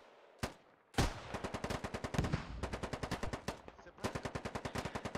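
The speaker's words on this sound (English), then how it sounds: "It's suppressing fire coming out of lawn darts." Rapid automatic gunfire in the video game Squad, with a loud lone shot followed by long rhythmic bursts of close, sharp reports.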